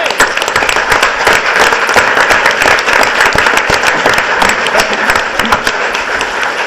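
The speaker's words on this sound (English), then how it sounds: "I think we can give a special round of applause to the heart of this operation" Loud, close applause from a crowd at the final session of a summer conference, dense continuous clapping with sharp individual hand strikes standing out throughout.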